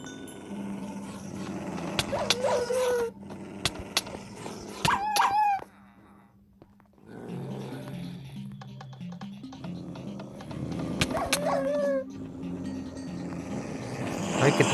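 Dogs in a horror-style video game set in a mansion, with sharp barks, whimpers and yips coming in bursts, some close and loud, set over low droning game ambience with a brief quiet gap midway.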